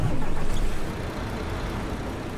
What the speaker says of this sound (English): Let me just turn the engine back on.